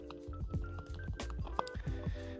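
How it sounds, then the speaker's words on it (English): A whisk beats shawarma marinade with garlic in a bowl, giving quick rhythmic wet squishing and clicking strokes, close and steady with no talking. "I'm gonna take a whisk and just kind of get this going real good."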